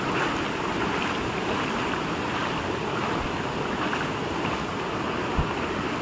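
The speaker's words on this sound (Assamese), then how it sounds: "এইফালে দেখিছেনে যথেষ্ট সোঁত পৰিছে।" Floodwater from the out-of-season flood on the Jhanji river rushes past in a strong current, giving a continuous, even roar with wind buffeting the microphone and no voices.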